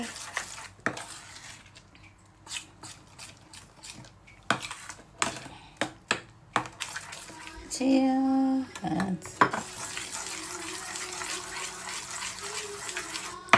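Water is added to a pudla batter, first with sharp clinks of utensils against a dish, then a brief steady pour of water followed by stirring and scraping.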